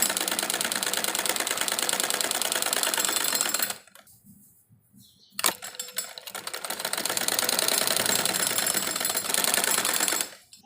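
Sewing machine stitching a semi-patiala salwar seam, a rapid mechanical clatter running loud and close, stopping for about two seconds, then resuming and stopping again near the end, with no talking.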